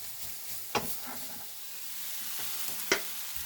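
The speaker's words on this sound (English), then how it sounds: "Let's give this pork a bit more of a stir and starting to seal off." Pork frying in a pan being stirred, with a steady soft sizzle throughout and a couple of brief scraping clinks from the stirring.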